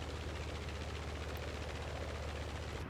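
Focke-Wulf Fw 190 A-8 piston aircraft engine in Microsoft Flight Simulator, a loud, continuous throbbing drone with a rapid pulsing beat, steady and close throughout with no talk.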